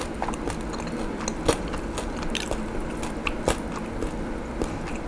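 Crispy pork eaten plain, served alongside noodles and roasted chili paste with shrimp fat: close, crunchy bites and wet chewing repeat steadily, with a few sharper crackling crunches standing out.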